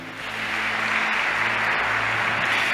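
A church congregation breaks into sustained, dense applause after a call to praise God during a Portuguese-language sermon on the Holy Trinity, steady and loud throughout with a low hum underneath.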